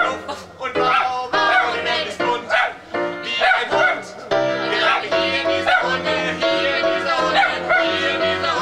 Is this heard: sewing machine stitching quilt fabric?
no